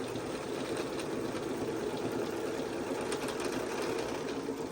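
A sewing machine hums steadily and continuously, close and unbroken, stitching a label onto a quilt, with no voices over it.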